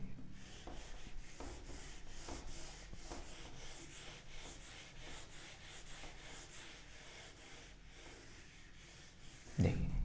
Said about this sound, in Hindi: अब देखो ये वाला रब कर दूं